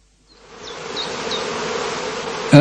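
Heather bees swarm around straw skeps at a heathland apiary in northern Lower Saxony, their buzzing rising from silence into a dense, steady, close hum.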